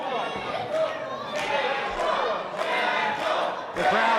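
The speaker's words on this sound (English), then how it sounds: "The crowd chanting for Jackal." A capacity crowd at a live independent wrestling show in Port St. Lucie chants in rhythmic swelling bursts, with cheering and noise rising and falling in the arena.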